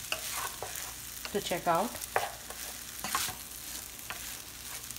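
Sabudana khichdi is stirred in a pan, giving soft scraping strokes over a faint sizzle, with a brief voice speaking near the start.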